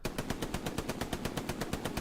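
Rapid machine gun fire rattles in steady bursts during a Hell Let Loose match, a dense string of evenly spaced shots at moderate distance with no pause over the short stretch.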